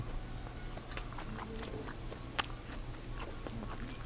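Close-up biting and chewing of grilled mala skewers, with soft crunches and wet mastication sounds repeating over a few seconds and no talk.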